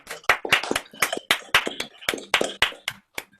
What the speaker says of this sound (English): So a round of applause for everybody, including Robin Hood.